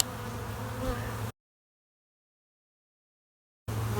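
Bees crowd a queenless starter colony set up for rearing queen cells, a dense, close, steady buzzing hum that cuts to silence partway through and returns at the end.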